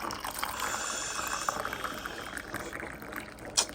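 Hot water pours steadily into a cup for tea, a continuous close splashing stream lasting several seconds, ending with a small clink.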